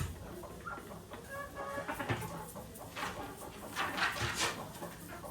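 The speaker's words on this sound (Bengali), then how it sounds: "একটা মুরগি আসছে যাই সে কিন্তু খাওয়া শুরু করে দিছে" Farm chickens eating near their coop give soft, intermittent clucks at a moderate distance over low rustling background, with no one speaking.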